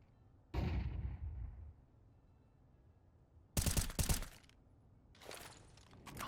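Gunfire in Counter-Strike 2 comes in sharp bursts, a single heavy shot early and a rapid cluster of shots a few seconds later, followed by a fainter burst, between quiet stretches.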